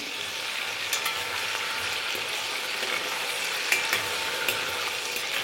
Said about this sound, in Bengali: জাস্ট অল্প একটু নুন দিয়ে এটাকে ভালো করে ভাজতে থাকুন।